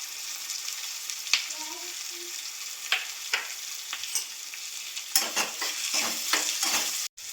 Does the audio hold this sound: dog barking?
no